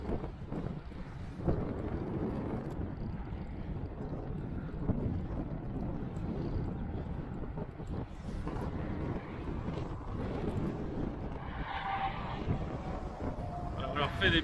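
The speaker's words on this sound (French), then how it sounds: "Il y a vraiment ce fameux vent d'est desséchant." A dry east wind blows steadily across the microphone outdoors, making a continuous low buffeting rumble throughout, with muffled voices faintly underneath.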